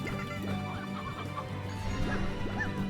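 Chickens in the video game Slime Rancher cluck in short, scattered bursts over a steady low game hum, moderately close and layered, with no speech over them.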